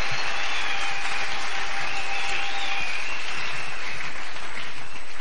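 A church congregation applauding together, a steady, loud wash of many hands clapping that holds evenly throughout with no voices over it.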